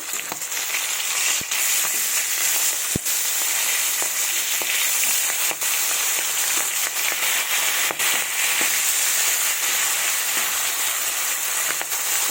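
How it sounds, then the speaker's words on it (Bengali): Fish pieces rubbed with salt and turmeric fry in hot mustard oil in a kadai, giving a steady, dense crackling sizzle throughout with frequent sharp pops, close and loud, with no talking. "ভালোভাবে লাল লাল করে ভেজে নেব মাছগুলো।"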